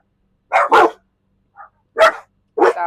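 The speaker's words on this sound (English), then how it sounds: "My son's dogs are right here." Dogs bark nearby outdoors in a garden while a mower runs: two quick loud barks, a faint yip, then two more sharp barks, close and clear against an otherwise quiet background.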